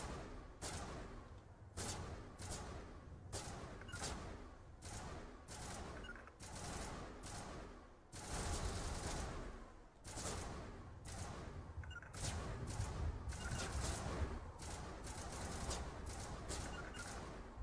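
Sustained gunfire in the Mass Effect video game, with rapid overlapping shots and bursts that keep going throughout, getting denser and louder in the second half, with no talk over it.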